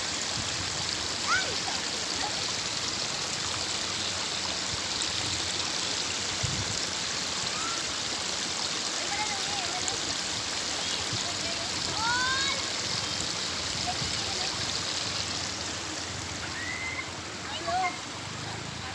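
A steady, broad rush of falling water at Huai Chan waterfall in Thailand, with children playing in the water, fills the whole stretch, with faint high chirps and occasional splashes over the constant roar.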